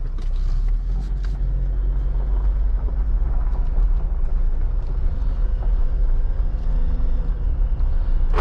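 2021 Jeep Wrangler Rubicon driving on the road, heard from inside as a steady low engine drone with road rumble and wind, fairly loud and continuous with no talking.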